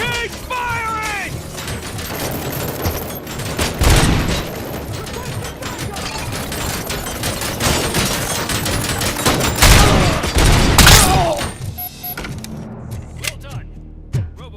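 Gunfire in a Robocop video game, rapid volleys and mechanical clanks rising in a loud firefight, with shouted voices over the shooting.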